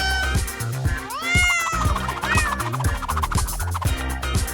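Cats meow repeatedly over a bouncy, thumping soundtrack in a Sprunki game, with several rising, drawn-out mews layered on top.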